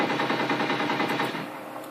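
A World War II fighter's aircraft machine gun fires in Garry's Mod, a loud, rapid, continuous burst of rounds that fades slightly at the end.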